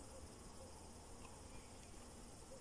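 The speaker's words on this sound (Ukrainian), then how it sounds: "стрекотіння цвіркунів" Crickets chirp on a foggy evening in a continuous faint, high, even trill that holds steady throughout, with no other sounds standing out.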